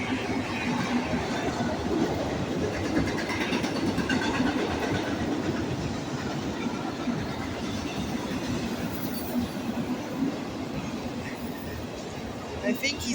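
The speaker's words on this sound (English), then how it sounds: "I think he's smaller than the train that I got earlier." BNSF freight train passing at speed in La Crosse, Wisconsin, a dense continuous rumble and rattle of rail cars heard from trackside, loud and steady for the whole stretch.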